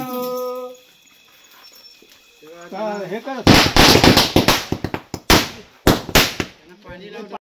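A rapid string of loud firecracker bangs bursting close by at a Tulsi Vivah festival in Guhagar, Konkan, uneven in rhythm, after a quieter stretch of voices and a dog barking.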